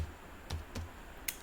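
Short burst of typing on a computer keyboard, a few quiet, distinct key clicks spaced apart in a hushed room, with no talking.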